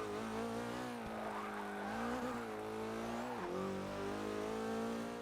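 Porsche 944 Turbo engine in Forza Motorsport 6, droning loudly and steadily with a mellow tone, with gear-change dips in pitch around a second and three and a half seconds in, plus faint tire noise.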